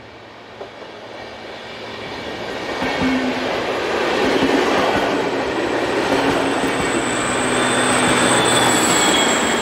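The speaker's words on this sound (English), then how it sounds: "Finally, 218461 brings up the rear of this train," A train with locomotive 218461 at the rear rumbles past in Germany, its roar swelling gradually and staying loud and steady, with faint wheel squeals.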